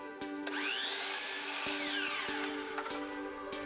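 A miter saw trims a small pine board, its motor spinning up into a loud, steady whine with a broadband cutting rasp that holds for about three seconds before winding down, close and alone.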